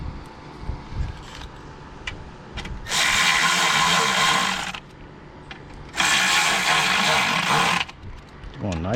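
A power tool or ratchet runs in two loud bursts of a few seconds each while tightening a plastic intake part on a Dodge/Jeep 3.6L Pentastar engine, with quieter handling noises in between.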